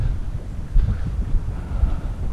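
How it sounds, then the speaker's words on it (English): Wind buffeting a microphone outdoors beside a small trout creek, a steady low rumble with gusty swells throughout, no talking. "Wind's blowing a little bit."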